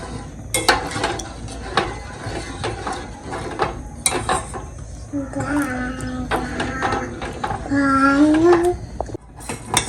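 Milk for seempal is stirred in a metal pot, with steady scraping, clanks and ratcheting clicks up close. Faint tonal squeals and what sound like background voices rise over the scraping midway.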